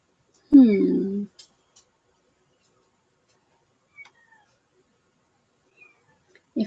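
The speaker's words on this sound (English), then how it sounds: "So if you hear the meowing" A cat shut in a pet taxi in a bedroom lets out one clear, fairly close meow, followed by faint scattered rustles and a brief second cry at the very end.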